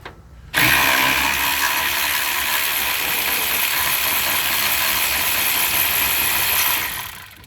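A power tool, likely an impact or drill, spins a 9/16 nut off a brake master cylinder bolt on a 1984 Ford F150, a loud continuous whirring burst starting abruptly and running steadily for about six seconds before cutting off.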